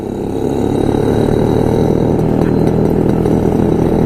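A steady, loud engine drone with a buzzing, rasping tone from several vintage Jawa, Yezdi and CZ motorcycles riding together nearby in a group ride, continuous throughout.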